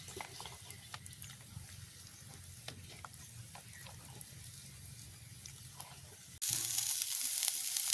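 Onion, garlic, chilli and mustard seeds fry in a pan for a family New Year meal. A steady, close sizzle with faint stirring scrapes runs throughout, then jumps to a louder, hissier crackle near the end.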